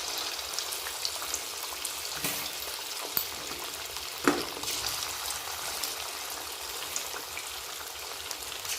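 Chicken pieces for chilli chicken fry in very hot oil, giving a continuous dense crackling sizzle with a few louder pops and spatters standing out, close by and with no voices.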